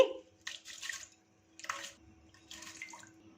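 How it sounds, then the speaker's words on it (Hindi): Water is poured into a cooking pot on the stove for vegetable rose masala rice pulao, arriving in three separate splashing bursts with quiet gaps between them. "इसमें पानी को शामिल कर देंगे।"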